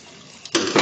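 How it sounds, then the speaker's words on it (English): Water rushes into a sight tube mounted on a test cock during backflow testing, starting as a faint trickle and then surging into a loud, steady gush for the last moments. "I'm going to fill my sight tube full of water."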